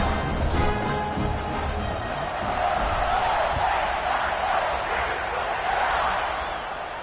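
A packed football stadium crowd at Wisconsin versus Ohio State roars steadily as a broad, sustained wash of cheering and shouting, with a commentator's voice running over it throughout.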